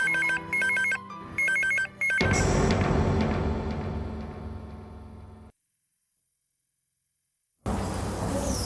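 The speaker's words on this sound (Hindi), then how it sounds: "राज के मोबाइल पर फोन लगाते हैं।" Telephone ringing on an outgoing call to a mobile: repeated short ringback tone bursts, then a loud burst of noisy background sound that cuts to silence before returning, with no talking.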